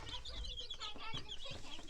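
Baby chicks in a chicken brooder on a farm, a small flock of about ten giving continuous high peeping and chirping close by, fairly quiet and steady.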